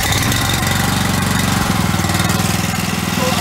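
A boat engine fires up and settles into a loud, steady, close chugging run, the rhythmic low thrum shifting slightly partway through and continuing without talk.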